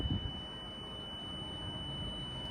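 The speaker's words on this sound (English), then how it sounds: "Sounds an alarm before it's going down." A steady high-pitched electronic alarm tone from a 2016 Sea Ray 350 SLX boat sounds continuously over a low mechanical rumble, without clear breaks between beeps, warning as a part lowers.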